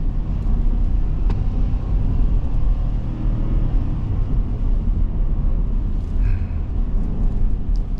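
Steady, loud, low rumble from a stock Ford F150 XLT pickup engine running nearby, a continuous droning growl with little change over several seconds and no voices.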